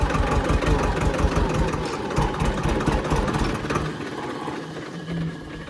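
A tractor engine runs steadily nearby with a loud, low, continuous rumble. It eases slightly toward the end, and no one speaks.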